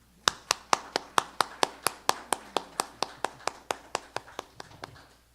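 Slow, evenly spaced handclaps, about twenty sharp claps in steady rhythm, apparently from a single nearby person or a small group at a Portuguese-language memorial lecture rather than full audience applause; no talk over them.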